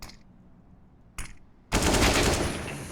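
Counter-Strike: Global Offensive gunfire on the Vertigo map during an IEM Katowice 2022 match: two short, sharp shots, then a loud, sustained burst of rapid automatic fire.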